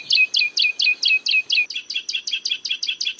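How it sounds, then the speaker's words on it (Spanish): A goldfinch with a hole in its beak singing a rapid series of even, repeated chirping notes, loud and close, the phrase shifting partway through to quicker, shorter notes. "escucha a otro que tiene que vivir con un agujero en el pico"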